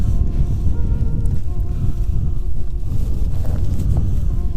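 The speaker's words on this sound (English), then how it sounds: "I hate ice fishing in the wind" Wind buffets the microphone on an open frozen lake during ice fishing, a continuous low rumbling gusty roar throughout.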